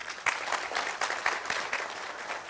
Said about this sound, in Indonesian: Jadi tepuk tangan untuk Mas Mutakin.